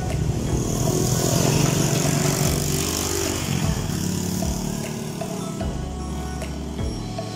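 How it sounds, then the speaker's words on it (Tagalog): A motor vehicle rumbles past on a hilly road during a group bicycle ride, its engine loud and close, then fading with a droning tone. "Teka, may sasakyan."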